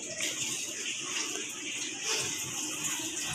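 Tap water runs at home in a steady, moderately loud rush.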